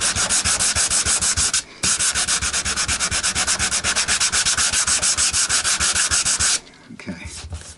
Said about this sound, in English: device for sanding this rather than your hand.